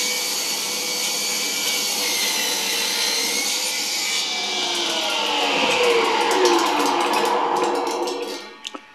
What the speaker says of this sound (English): The motor runs both the table saw and it also runs an arbor under there that pivots up and for a shaper